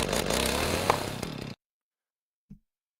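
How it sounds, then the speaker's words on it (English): A new chainsaw runs at full throttle with a loud, steady buzzing drone for about a second and a half, then cuts off abruptly, followed by a brief faint knock a moment later. "Normal chainsaw. Typical chainsaw."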